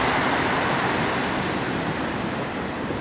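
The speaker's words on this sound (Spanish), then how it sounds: "Y este es el famoso Mar Pacífico," Pacific Ocean surf breaking steadily on a pebble beach in Lima, Peru, a dense continuous roar and wash of waves heard up close with no pauses and no talking.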